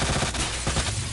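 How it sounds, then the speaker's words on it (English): Gunfire rings out in the Resident Evil 2 remake, a few sharp shots in quick succession, loud and close, each with a short echoing tail. "Shoot him so he wakes up"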